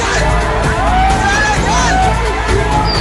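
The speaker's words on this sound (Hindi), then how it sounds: "नौबत हाथापाई पर आ गई, भीड़ बेकाबू होती गई।" An unruly crowd clashing with police over changing a statue, a loud continuous babble of many shouting voices with occasional whoops and knocks, close and chaotic.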